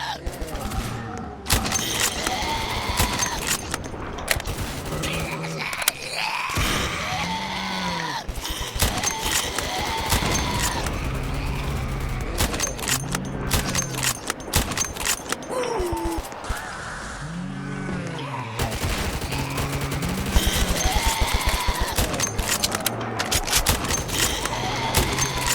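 Sniper rifle fire from an SV-98 in Roblox Zombie Uprising: dense, continuous game combat with repeated sharp shots and thuds over a steady background of effects, heard throughout at a constant loud level.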